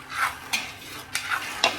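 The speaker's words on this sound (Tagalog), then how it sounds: "Tandaan po natin, huwag natin titigilan ang paghalo ng mani." A utensil stirring peanuts cooking in a little oil in a pan, with rhythmic scraping strokes about every half second, close and moderately quiet, with a faint sizzle underneath.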